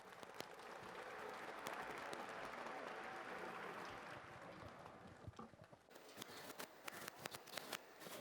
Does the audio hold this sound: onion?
no